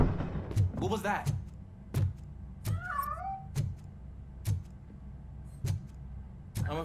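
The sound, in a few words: cat meowing in video game Robocop: Rogue City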